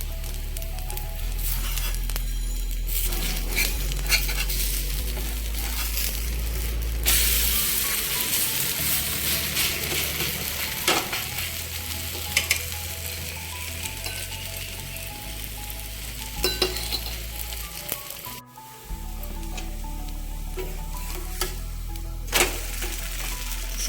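Continuous sizzling and frying of a dosa on a hot pan, a soft crackling hiss with a brief break near the end and occasional scrapes, no speech.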